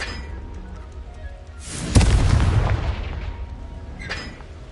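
A Confringo spell explosion in the Hogwarts Legacy video game: a single deep, rumbling boom that swells and then fades over a couple of seconds, followed by a smaller crackle, heard over quiet game ambience.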